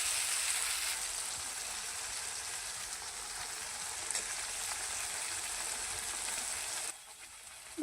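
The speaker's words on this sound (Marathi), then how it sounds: "मस्त 5 मिनिटं बारीक गॅसवरती चांगलं परतून घ्या, म्हणजे पूर्णपणे त्याचा फ्लेवर यामध्ये उतरला जाईल" Masala for kaju paneer curry sautéing in a pan over a low flame, a steady close sizzle that runs evenly throughout and drops abruptly near the end.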